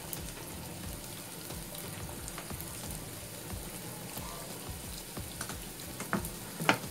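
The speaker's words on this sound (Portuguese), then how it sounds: "Vou refogar aqui uma cebola pequena" A small onion sautés in oil in a pan with a steady close sizzle and crackle, a few sharper pops and scrapes near the end, and no talking.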